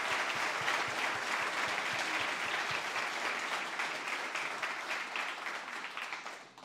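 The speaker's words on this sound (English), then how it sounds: "Let's give them a round of applause." A large crowd at a youth event applauds teachers in a long, even burst of clapping that holds steady before tapering off at the end.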